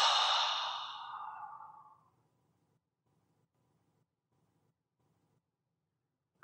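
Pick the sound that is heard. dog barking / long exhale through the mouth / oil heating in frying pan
long exhale through the mouth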